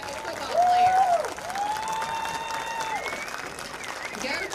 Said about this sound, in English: Ladies and gentlemen, one more round of applause for your